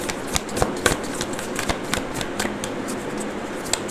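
Tarot cards are shuffled by hand close up, a steady run of crisp riffling snaps and soft slaps with no talking over it.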